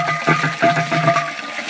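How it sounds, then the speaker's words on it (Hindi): Water pouring into a large metal vessel at a mountain spring, a close gurgling fill with bubbling pulses and a rising hollow ring as the container takes in water. "तो पहुँच चुके हैं हम लोग धारे में, भरते हैं पानी।"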